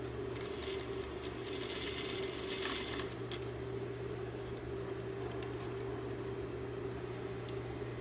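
A sewing machine runs steadily, stitching a fabric casing around a rigid embroidery hoop, with a constant motor hum and a brief rattle of faster clicks near the start.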